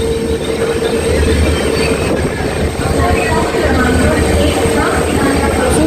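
A fast train thunders through a station on the Mumbai line with a steady, loud rolling roar and metallic wheel whine, while a station announcement voice sounds over it.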